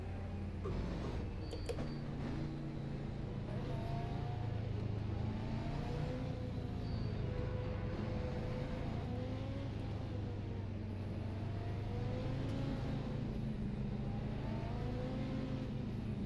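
A race car engine in the video game Automobilista at Daytona road course drones steadily, its pitch rising and falling in gentle waves as it revs, with no voices over it.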